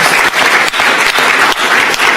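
Loud, dense applause from the audience at a county commissioners meeting, a continuous wash of many hands clapping close by.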